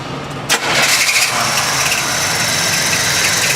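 A car with a non-charging alternator cranks briefly, then its engine catches and settles into a loud, steady idle, close by.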